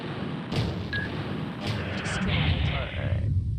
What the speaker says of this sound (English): that's 3 separate 200 millimeter APXs flying